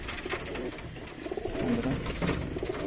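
Several pigeons cooing inside a loft, low throaty overlapping coos rolling on continuously, close and moderately loud, with a busy background of other birds.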